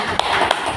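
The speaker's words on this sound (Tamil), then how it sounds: "கைத்தட்டு கொடுங்க பிரபு." Hands clap a few times at a spiritual talk, three short, sharp claps spaced evenly across a brief moment against a quiet room.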